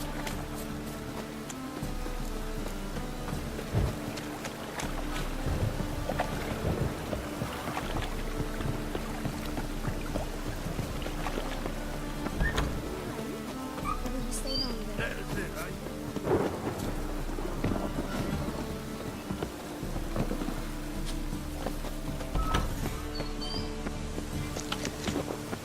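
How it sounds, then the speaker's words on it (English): A thunderstorm in the video game The Witcher: steady rain pours over low rolling thunder, with several louder rumbles and gusting noise throughout. "A storm, damn it."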